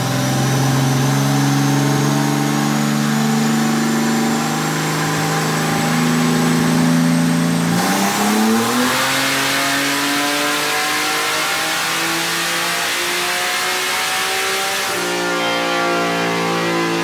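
A 4.2-liter engine on a dyno revs hard through a long, steady pull. Its tone climbs continuously with two abrupt shifts partway through. The sound is loud and close, with no talking.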